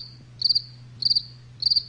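A cricket chirps in three evenly spaced pulsed trills, each a quick burst of high rapid clicks, loud and close over a low steady hum, with no voices.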